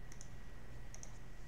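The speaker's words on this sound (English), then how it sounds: "Let me see if I can type this in for you." Someone types on a computer keyboard, tapping out two brief pairs of light, close clicks separated by a pause over a steady low hum, with no talking.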